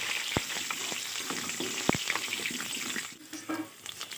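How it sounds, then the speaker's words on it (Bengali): Potatoes frying in hot mustard oil in a kadai, a steady close sizzle with a few sharp clicks of a utensil against the pan and a brief lull near the end. "তেল গরম হয়ে গেছে, তাই দিয়ে দেব আলু।"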